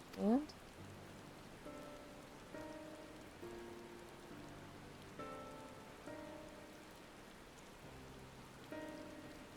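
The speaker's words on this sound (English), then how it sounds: "Oh, it's raining?" Rain falling in Final Fantasy XIV, a steady soft patter running the whole time beneath game music and occasional voices.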